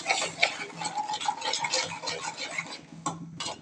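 Dried fish and eggplant are stirred in a pan with turmeric and salt, giving a soft, continuous scraping and clicking of a utensil against the pan at a steady, gentle pace.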